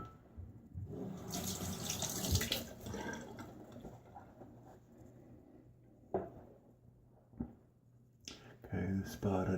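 Cold water running from a tap into a sink for a post-shave rinse, a steady splashing rush that fades, then brief splashes and drips near the end.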